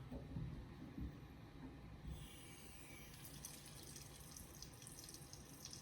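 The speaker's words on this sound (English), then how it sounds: "now let me go ahead and turn on the sink here," A sink faucet is turned on and a steady stream of water starts running about two seconds in, a quiet, continuous hiss with no talking.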